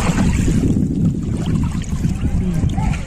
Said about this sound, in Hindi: जो पानी का आप सुनिए लहर का आवाज